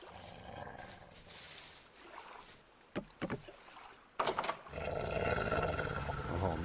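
A wolf growls in the survival video game Vintage Story, with rough bursts around the middle and a louder snarl near the end over a steady, noisy game background.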